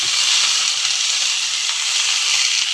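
Coriander leaves and white sesame seeds sautéing in a pan for coriander puliyogare, a steady bright sizzle and hiss that holds evenly throughout, close and continuous with no talking.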